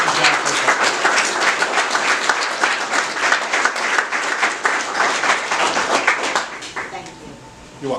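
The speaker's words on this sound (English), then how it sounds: "I would like everybody in the room to give Renee a big round of applause for everything she's done for us" Room audience applause at an evening talk, a steady run of many hands clapping close and loud, tapering off near the end before a voice returns.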